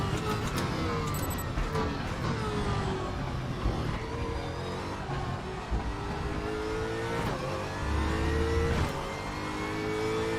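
A race car engine in the RaceRoom racing game revs hard under braking and a downshift, then surges back on full power, the loud whining tone sweeping down and up continuously for about ten seconds with no talk.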